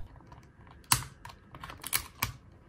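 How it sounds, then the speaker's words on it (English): A knife scrapes and clips at ten-year-old dried paint stuck on a palette, making a few sharp close clicks and scratchy strokes over a quiet background. "For the thinner bits of paint, I'm really just scrape, scrape, scrape, scrape, scrape."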